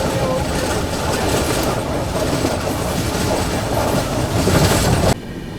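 The Guwahati–New Delhi Rajdhani Express runs at speed near Sonpur, heard from on board as a loud, continuous rumble with clickety-clack of wheels over the rails, cutting abruptly quieter just before the end.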